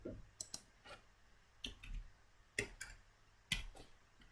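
Several sharp key clicks from typing a rotate command on a computer keyboard, in short clusters spread over a few seconds, fairly faint and close with no talking.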